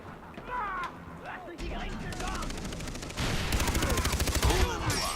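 Rapid gunfire from Far Cry 3 co-op combat, dense bursts of shots layered over game ambience, growing louder and more sustained toward the end, with voices talking over it.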